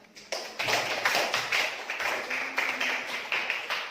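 A classroom of students applauds in a burst of light, rapid clapping that continues steadily for several seconds, close and fairly loud.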